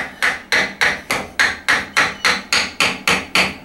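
A hammer taps a wooden piece of a Japanese sawhorse back out: eleven evenly spaced, sharp, close knocks in a steady rhythm, with no talking.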